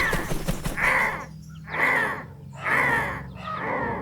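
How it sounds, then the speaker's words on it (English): Harsh cawing calls from a large flock of blackbirds ring out four times at a steady pace, loud and near, with no talking. "The caw, caw, caw was coming from the tornadic swarm of hundreds of blackbirds, cawing in unison"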